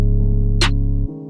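Drill beat pattern programmed in FL Studio, a loud sustained booming low bass tone with a single sharp snare hit in the middle, the bass cutting away near the end.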